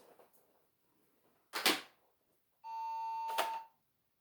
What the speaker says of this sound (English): the monitor is beeping